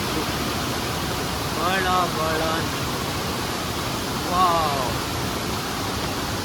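Rushing water of Mala Falls pours in a constant broadband roar close by, with a couple of brief excited voices exclaiming over it.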